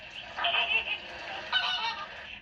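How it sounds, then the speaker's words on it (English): Flamingos feeding in a Galápagos lagoon squawk and honk in two bursts of nasal, goose-like calls, fairly close and clear over a quiet background with no talking. "a pod of flamingos feeding and squawking"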